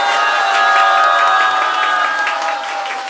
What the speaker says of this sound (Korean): 다시 한번 신님께 뜨거운 감사의 박수 올려주십시오.